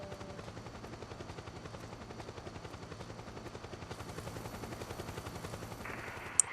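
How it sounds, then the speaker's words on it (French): Helicopter in the video game Metal Gear Solid 4, a steady rhythmic rotor thump running throughout with gunfire-like bursts layered in and a brief sharp click near the end. "j'allais me faire repérer par l'hélico"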